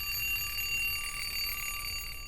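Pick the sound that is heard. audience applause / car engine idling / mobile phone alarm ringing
mobile phone alarm ringing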